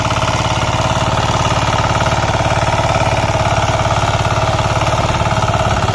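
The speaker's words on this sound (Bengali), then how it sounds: "এই শক্ত মাটি এই ছোট্ট মেশিন কিভাবে কাটা করে দিচ্ছে আপনারা দেখেন" A small tiller machine ploughs hard soil in a field. Its engine runs with a loud, close, continuous rattling throb that holds a steady pulsing rhythm from start to finish, with no talking.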